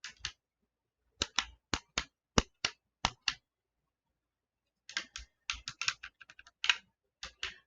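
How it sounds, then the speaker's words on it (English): The plastic trigger of a Transformers Classics Voyager Megatron toy gun clicks sharply and repeatedly, in evenly spaced single clicks followed by a faster irregular run of clicks, with no talking. "it does have a clicking trigger"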